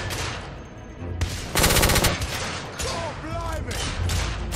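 A shotgun fires in The Order: 1886 as loud, close blasts, including one long booming burst, amid a busy combat mix with ricochet-like whines, while someone speaks briefly.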